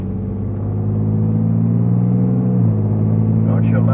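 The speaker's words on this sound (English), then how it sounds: "Don't you love that muffler sound?" A car drives along with a steady, deep muffler exhaust rumble that holds evenly throughout, shifting slightly in pitch partway through.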